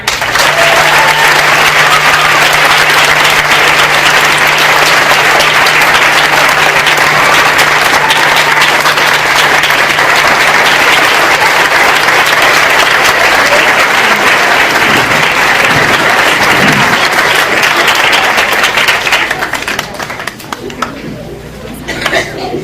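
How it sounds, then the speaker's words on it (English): A school audience gives a loud, sustained ovation of dense clapping to welcome Dr. Howard Gardner, with crowd noise underneath, continuing steadily before thinning out near the end. "I know that applause and the standing was for the kids who were terrific."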